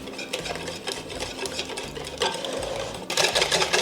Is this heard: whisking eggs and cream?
yes